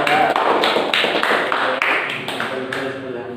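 Students in a classroom lesson clap their hands in a series of distinct claps with short pauses between them, heard close by and moderately loud.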